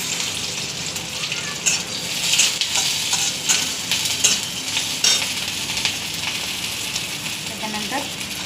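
Garlic sizzles and fries in hot oil in a pan for ridge gourd peel chutney, a steady close crackle with occasional stirring clinks and scrapes, without speech.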